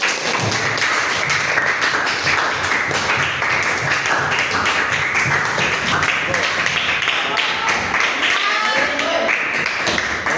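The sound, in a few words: classroom applause for group 1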